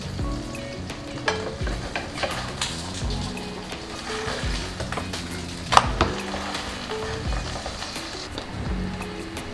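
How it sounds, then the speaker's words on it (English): Kljukuša, a Bosnian potato batter cake, frying in a pan with a steady close sizzle and crackle, broken by a few louder scrapes and clinks of a utensil against the pan. "Flip your kljukuša when the other side is turning golden brown."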